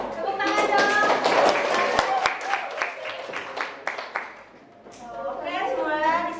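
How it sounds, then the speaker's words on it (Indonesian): Students in a classroom clap for a classmate about to present, with brisk, slightly uneven handclaps from a small group filling most of the moment before thinning out, and a voice speaking near the end. "Tepuk tangan dong."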